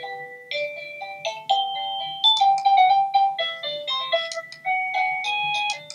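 Bright electronic melody from an Avantek DT52 wireless doorbell chime, a quick run of ringing synthetic notes played alone and close for about six seconds.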